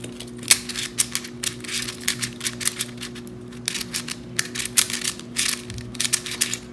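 A new puzzle cube is turned quickly by hand, producing rapid bursts of scratchy plastic clicking and grinding, close up and continuous over a faint steady electrical hum.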